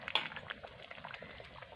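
A pot of fish curry boiling down on the stove gives off soft, close bubbling and spluttering, a busy low gurgle with a few brighter pops near the start.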